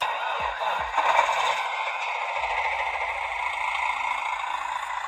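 Simulated lorry engine sound from a D01T all-in-one ESC in a tiny Orlandoo Hunter RC truck, a steady synthetic buzzing drone with a few scraping clicks at the start.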